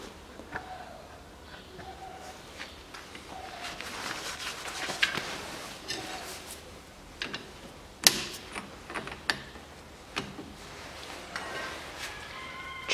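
Tightening the hub nut on a CFMOTO CF625 X6 EFI quad bike, with the hub held through the steering knuckle: quiet metallic clicks and ratcheting taps with scattered tool knocks, close by and without talk.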